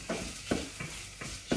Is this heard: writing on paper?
no